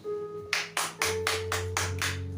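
Slow, evenly spaced claps ring out in a church congregation, about seven distinct hits in a steady rhythm over a low sustained hum.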